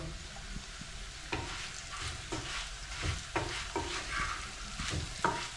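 Curry leaves hit hot oil while frying taro root, giving a steady close sizzle broken by a few sharp crackles and spatters.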